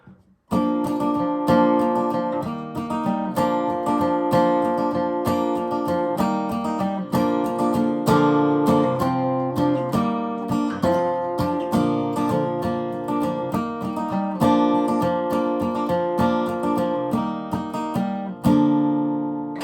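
A flatpicked acoustic guitar plays We Three Kings fast, a steady stream of crisp, bright picked notes and strummed chords running for about twenty seconds before ending on a final ringing note, with no talking.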